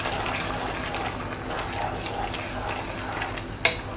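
Bamboo rice for kheer sautés in ghee while being stirred, a soft steady sizzle and hiss close by with light scraping and a sharp clink near the end, no talking.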